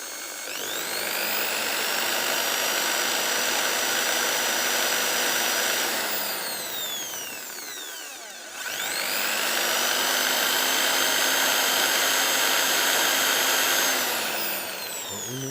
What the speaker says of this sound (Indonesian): sudah, lalu kita ini bor ulang.